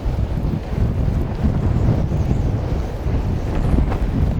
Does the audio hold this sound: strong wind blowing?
yes